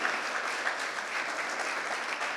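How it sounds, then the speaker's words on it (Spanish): A church congregation claps in a loud, sustained burst during an evening sermon, a thick continuous wash of hands that holds steady and full without speech on top. "¿Cuántos pueden dar un fuerte aplauso en esta noche al Rey que nos trasladó de donde estamos perdidos a su reino?"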